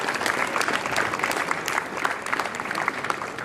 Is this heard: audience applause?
yes